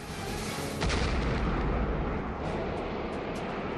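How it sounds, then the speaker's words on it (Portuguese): A missile explodes near a Phantom fighter jet, a loud, booming blast with a rumbling roar that swells and sustains, heavy low-end thunder filling the space. "O míssil detona próximo ao Phantom de Hawkins e a nave treme com a explosão."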